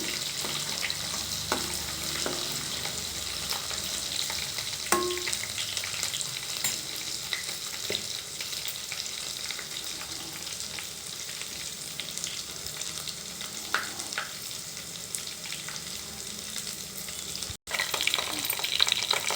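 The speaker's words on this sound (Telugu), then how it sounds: "కొంచెం గోల్డ్ కలర్ రావాలి అల్లం వెల్లుల్లి పచ్చి వాసన పోయేంత వరకు పెట్టుకోవాలి" Ginger and garlic sizzle steadily in hot oil in a pan, a continuous close frying hiss with occasional stirring clicks and scrapes, no voices.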